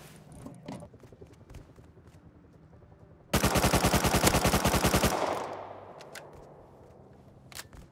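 A loud, rapid burst of automatic gunfire from an AK or MP5 in the Roblox Bedwars game rattles for about two seconds over busy background game noise, then fades away, with no speech.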